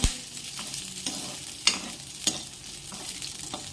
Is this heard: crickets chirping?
no